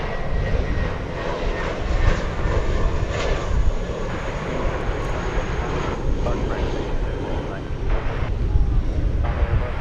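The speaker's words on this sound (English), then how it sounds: "It's an American Airlines Airbus A319" An American Airlines Airbus A319 jet passes at DFW Airport with a steady, loud broadband engine roar that holds through the whole stretch, broken by faint crackles of voices.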